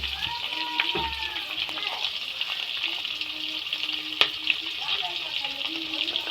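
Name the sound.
onions frying in a pan for tomato curry leaf pickle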